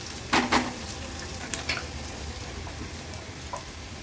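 Onions being mixed as they cook in a pan for a Maharashtrian veg thali, soft steady sizzling with a few crisp scrapes and taps of the spoon.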